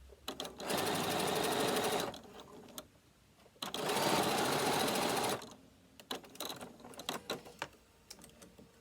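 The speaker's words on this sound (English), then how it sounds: "Bring the binding over and we're going to top stitch down this side." Sewing machine running in two long, steady bursts while top stitching binding on a handmade bag, each run several seconds and fairly loud, separated by quiet pauses with light handling clicks and taps.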